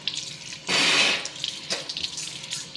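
Water gushes briefly from an automatic sensor faucet in a public restroom in Singapore, a loud steady burst of about a second that cuts off, followed by faint drips and room noise.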